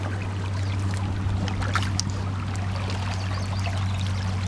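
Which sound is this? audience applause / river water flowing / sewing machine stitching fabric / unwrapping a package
river water flowing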